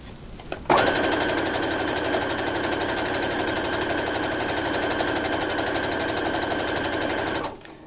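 Sewing machine stitching a ruffle onto pants, starting abruptly and running in one steady, fast, close mechanical chatter for about seven seconds before stopping, with no talk.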